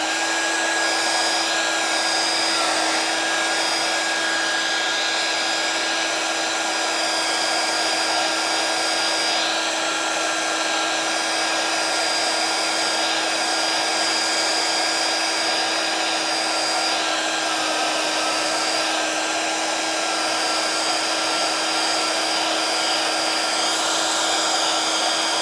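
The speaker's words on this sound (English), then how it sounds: "hairdryer and blow those dry real quick" A hair dryer runs steadily and loudly at close range, blowing hot air to dry paint on handmade signs, a continuous even whine with no pauses and no talking.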